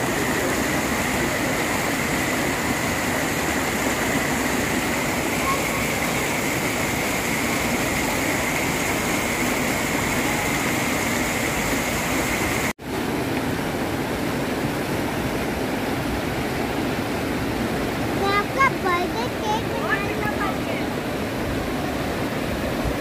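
Cold mountain stream high in the hills, water rushing in a steady, loud broadband wash that stays constant throughout, with brief faint voices and small clinks near the end.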